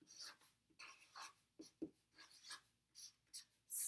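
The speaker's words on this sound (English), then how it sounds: "Let's write the stepsisters." Marker or chalk writing on a classroom board, a series of short scratchy strokes in uneven bursts, close and quiet, with a brief louder rustle at the end.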